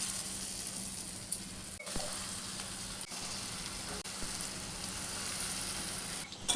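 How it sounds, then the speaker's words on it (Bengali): Lentil fritters (bora) frying in hot oil give a steady, quiet sizzling hiss that runs continuously, broken only by a few soft clicks of a utensil. "বড়াগুলো ভেজে নেব।"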